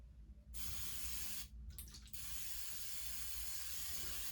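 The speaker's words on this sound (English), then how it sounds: "I got to spray some oil on the pan here." Cooking oil spray hisses onto a pan in a kitchen, one long steady burst after a brief opening puff, loud and close with no talking.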